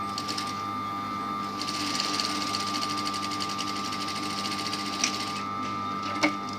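A sewing machine fitted with a hemmer foot stitches a seam at a steady rapid clatter, close and continuous, with a couple of sharper mechanical clicks near the end.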